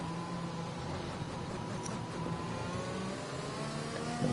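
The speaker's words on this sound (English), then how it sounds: "All the cars bunching up now." Racing car engines in a racing video game drone faintly as a steady mid-pitched hum, with a pack of cars running together, far off and low in level.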